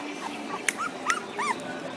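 Pitbull puppies give high, thin whimpers and squeaks, a few short rising cries at close range over quiet background noise.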